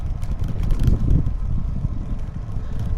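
Steady low rumbling wind buffeting the microphone, with gusty swells and flapping throughout, no voices.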